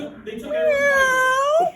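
A person imitates a cat's meow in one drawn-out, wavering cry that rises in pitch and then breaks off.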